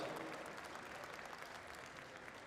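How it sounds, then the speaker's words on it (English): Spectators at a middleweight horse pull competition applaud, producing a faint, steady wash of distant clapping that holds for a couple of seconds without a break. "Give him a big round of applause"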